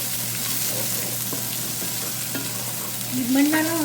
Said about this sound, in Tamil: வெங்காயமும் பூண்டும் போடுங்க. கொஞ்சம் நேரம் குக் பண்ணுங்கள், லைட் ப்ரௌன் ஆகிற வரைக்கும்.